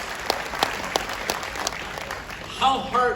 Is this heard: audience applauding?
yes